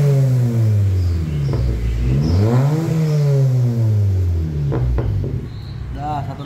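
A motorcycle exhaust fitted with a custom resonator revs hard several times, its deep throaty note rising and falling close by, with brief voices between the blips.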